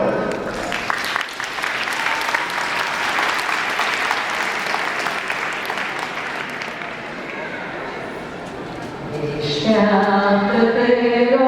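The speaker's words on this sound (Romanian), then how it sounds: "Vă rog să le aplaudați." Audience applause fills a hall during a ceremony, a steady sustained clapping that runs throughout, with a voice beginning to sing near the end.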